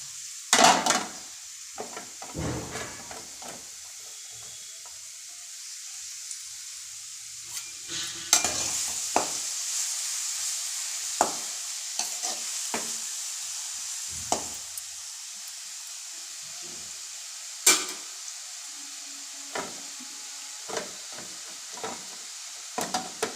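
Two medium carrots dropped into hot oil in a pan, a soft sizzle underneath irregular sharp clacks and scrapes of stirring spread over the whole stretch, near and fairly quiet, with no talking.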